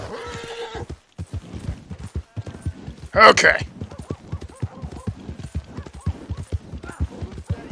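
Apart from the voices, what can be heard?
horse hooves clip-clopping while riding in Red Dead Redemption 2 video game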